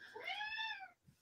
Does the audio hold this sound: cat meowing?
yes